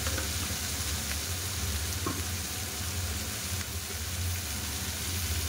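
Spices, cumin powder and then turmeric, frying in a pan give a steady, dense sizzle with faint stirring scrapes and a low hum underneath, continuous and fairly close throughout.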